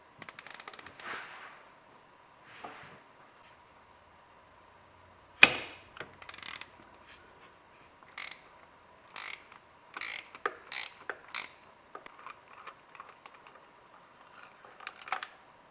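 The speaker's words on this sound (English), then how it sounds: "I'll just hand tighten them for now, and then I'll torque them down to 22 foot-pounds" A hand ratchet clicks in short bursts while new spark plugs are tightened on a Porsche Cayenne engine, the crisp pawl clicks coming in separated runs with metallic taps between, fairly quiet and close.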